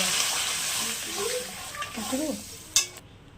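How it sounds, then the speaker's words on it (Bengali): Ridge gourd pieces are stirred in a sizzling pan of spiced masala for a rohu fish curry, a close frying hiss under scraping spatula strokes, ending with a sharp clatter and then quiet. "ঝিঙেগুলো দিয়ে এবার নাড়াচাড়া করে দেবো"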